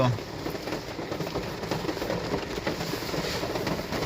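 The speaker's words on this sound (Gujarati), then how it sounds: "વરસાદ ચાલુ છે" Steady rain falls during a monsoon outing on the way to Devghat in Umarpada taluka, a dense continuous hiss heard from inside a car.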